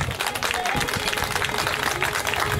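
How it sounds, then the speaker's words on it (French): An audience at a women's event applauds a traditional dance troupe, with dense, steady clapping and crowd noise filling the space and a few voices mixed in. "J'appelle l'assistance à applaudir davantage ces braves femmes."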